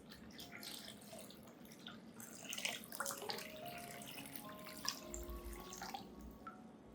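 About 1.5 liters of water pours steadily into a container for an orchid fertilizer mix, a continuous splashing, gurgling stream heard close.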